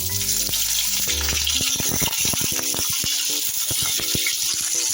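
Cauliflower florets and potato pieces hit hot oil with dried red chillies, whole cumin and bay leaf, sizzling loudly and steadily close up with scattered crackles and clinks of a utensil against the pan.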